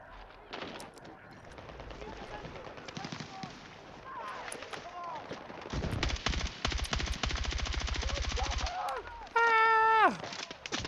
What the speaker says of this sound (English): They shooting at you.